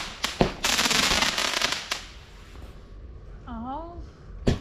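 A firework cake launches its shots into the air at a Bonfire Night home display: a close sharp bang opens a dense burst of crackling pops, and another bang lands near the end. A voice briefly exclaims partway through.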